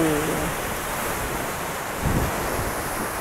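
Ocean surf rolls and crashes below the Algarve cliffs in a steady, dense roar, with wind buffeting the microphone throughout.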